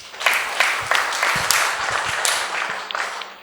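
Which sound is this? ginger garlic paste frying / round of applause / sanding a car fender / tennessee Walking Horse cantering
round of applause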